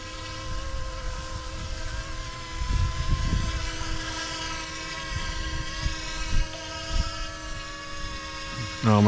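An F-09 Blackhawk model helicopter flies with a constant high-pitched electric motor whine and buzzing rotor, wavering as it moves, with faint wind and occasional low thumps underneath.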